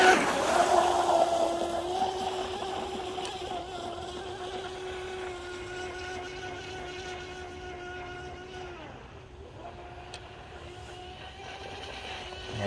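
On a pond, a Blackjack 24 RC boat fitted with a strut mod, water cooling spraying from both sides, runs with a sustained motor whine. The whine holds steady, fades and dips briefly near the end, then resumes.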